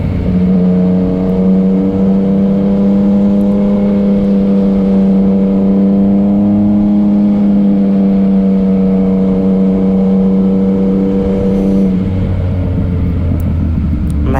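Yamaha MT-09 motorcycle chasing a two-up Honda Scoopy i at speed, its engine giving a loud, continuous droning rumble that holds steady for a long stretch before the pitch drops toward the end.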